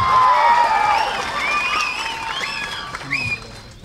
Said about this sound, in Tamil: அந்த கைதட்டு தான் எல்லாருக்கும் உற்சாகம்